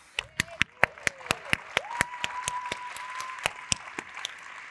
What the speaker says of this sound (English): let's give her an applause